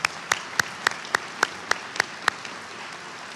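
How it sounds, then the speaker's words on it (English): Sparse, distinct claps from a small scattered audience at a 2021 graduation ceremony ring out in an even rhythm, roughly ten sharp hits spaced evenly apart, then fade to quiet room tone. "Can we give them a quick round of applause?"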